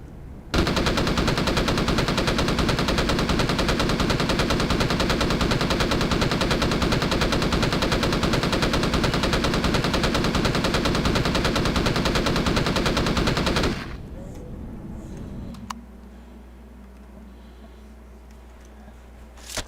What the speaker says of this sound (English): I got the 3 lights in the front, 2 Gatling guns on the side